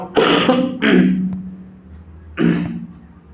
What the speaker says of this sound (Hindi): आज का खांसी जुकाम बहुत ज्यादा हो रहा है